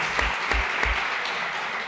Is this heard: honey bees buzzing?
no